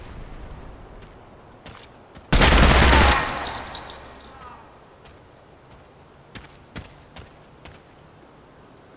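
Gunfire from 5.56 and 30-06 weapons in a video game: a sharp, loud burst of rapid shots, followed by scattered single reports and faint clicks and footsteps.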